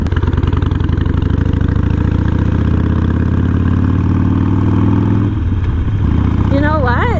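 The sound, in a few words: Harley-Davidson Sportster motorcycle engine idling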